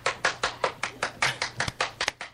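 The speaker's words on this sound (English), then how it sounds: "One girl's clapping." A single girl claps steadily on a played radio recording, about a dozen sharp, evenly spaced claps of moderate loudness with a thin, slightly distant quality and no talking over them.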